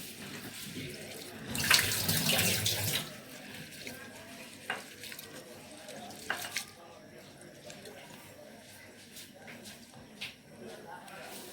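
Soaked rice being rubbed by hand in water in a bowl, a short burst of splashing and running water followed by soft sloshing and scattered wet clicks, close but quiet, with someone talking over it.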